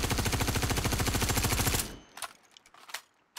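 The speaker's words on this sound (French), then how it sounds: "on va balancer une rafale sans essayer de la retenir pour voir ce que ça donne" A full-auto weapon in Star Citizen fires one rapid, loud, unbroken burst lasting just under two seconds, then cuts off into a few faint clicks and clatters.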